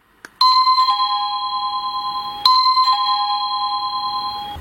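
An electronic doorbell chimes twice, a clear two-tone ding-dong melody with a pulsing electronic tone, ringing alone and fairly loud.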